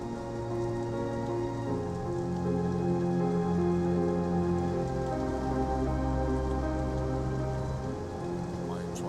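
Light rain drizzling onto a surface at sea, a steady soft patter of drops over a low tonal hum, even and continuous.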